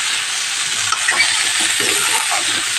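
Chopped pumpkin and potato fry in a pan, producing a steady, close, loud sizzle throughout with faint stirring scrapes underneath.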